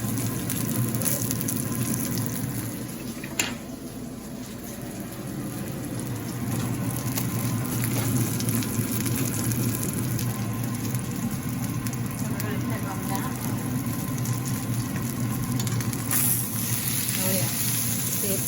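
Salmon fries in a pan with a steady, close sizzle and crackle running throughout, a couple of brief clatters, and a low hum beneath; a voice is also heard.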